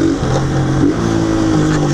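Motorcycle engine revving hard while pulling in second gear on a street, a loud, close, continuous mid-pitched roar with rising and falling pitch sweeps and no talk.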